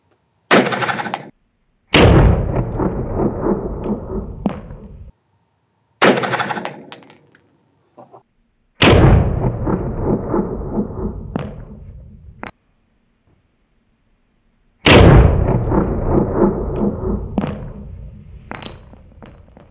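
Rifle shots fired from a rifle resting on a Magpul bipod, several loud sharp reports spaced a few seconds apart, each with a brief ringing decay and short gaps of silence between.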